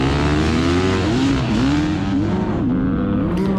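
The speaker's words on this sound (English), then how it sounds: "I'm on my 2020 Beta 300RR, and it's awesome off the start." A 2020 Beta 300RR two-stroke dirt bike engine screams loud and close at the start of a GNCC off-road race, revving hard through rising and falling pitch sweeps as it accelerates.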